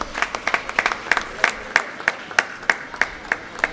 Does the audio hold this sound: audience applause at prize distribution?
yes